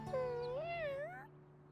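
A cartoon kitten gives a single clear, wavering meow from a children's animated show, rising and falling before fading over a faint steady hum.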